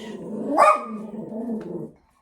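A dog in an artist's home studio lets out a short growling bark that rises sharply then settles into a low rumbling growl, close and fairly loud, ending abruptly.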